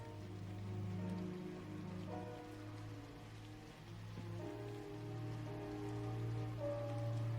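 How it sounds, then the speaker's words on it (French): Steady heavy rain pattering on surfaces, continuous and close, with a low background hum underneath. "Il pleut à verse."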